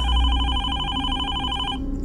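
An old office telephone rings in a radio drama sound effect, a loud, steady electronic bell warble that repeats in quick pulses for nearly two seconds, then cuts off with no voices.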